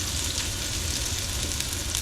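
Garlic fries in a pan on slow heat, giving a dense, continuous close sizzle with fine crackling and a low rumble underneath, steady and unbroken.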